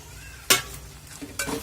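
Thecha ingredients being sautéed in a pan over high flame, with two sharp bursts of sizzling as they are stirred and tossed, the first louder, between quieter stretches of low frying.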